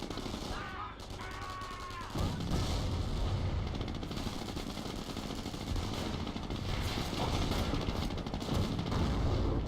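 Artillery and gunfire in a Company of Heroes match between American and Wehrmacht forces: a dense, rumbling barrage of booms and crackling shots. A brief whistling sound comes early, then the heavy bombardment holds steady throughout.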